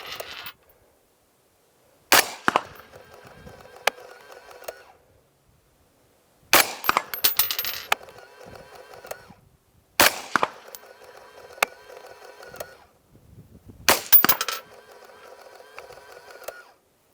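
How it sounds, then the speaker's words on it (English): Four separate shots ring out from a rifle firing 5.56 NATO rounds loaded with Accurate 2230 powder, spaced a few seconds apart. Each crack is followed by a bright metallic ring from the struck steel target, with quiet pauses between them. "Let's go ahead and put a few rounds on steel,"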